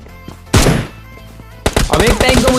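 Two loud bursts of automatic gunfire in a battle royale mobile shooter, the first short and the second longer, with faint scattered footstep-like thumps in between.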